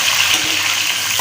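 Onions and tomatoes sizzle in a pan for mutton nihari, a steady, close, bright hiss that fills the brief moment with no voices over it.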